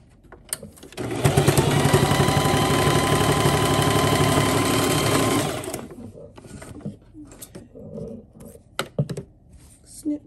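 A sewing machine stitches down the center fold of fabric for a fluffy American flag dog bow tie, running steadily and loudly for about five seconds, then stopping, followed by quieter handling noises and faint clicks.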